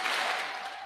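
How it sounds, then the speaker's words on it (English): A graduation audience at a high school ceremony stands and claps, a dense, steady wash of applause lasting under a second with no voices standing out. "please stand and we'll give them a pirate clap"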